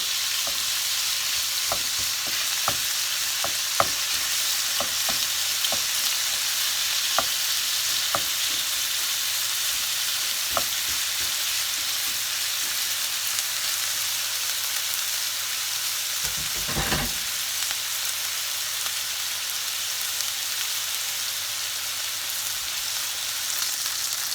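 Chicken browns in a frying pan with a continuous hiss of sizzling, dotted by sharp spatter pops and a short scraping rumble midway; no one speaks.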